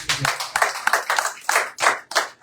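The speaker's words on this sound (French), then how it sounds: "Acclamez pour vous-même, c'est bien" An audience in a church claps for itself in a series of bursts, several close rounds of hand clapping rising and falling, fairly loud and near.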